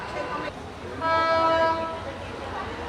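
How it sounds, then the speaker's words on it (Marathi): A train rumbles past close by on Hanoi's Train Street, a narrow street lined with buildings, with a sustained horn blast in the middle, while a person speaks over the noise. "पुन्हा एकदा ट्रेनने दर्शन दिलेलं आहे"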